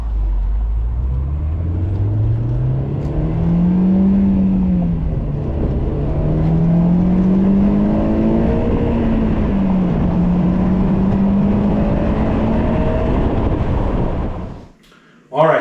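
A Honda S2000 AP2 engine revs hard to high RPM, a loud close drone that rises and falls in pitch across several sweeps for about fourteen seconds before cutting off abruptly.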